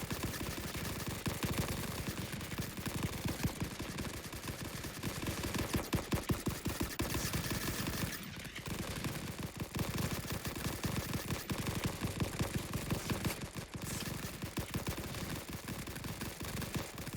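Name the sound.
machine gun fire in the video game Rising Front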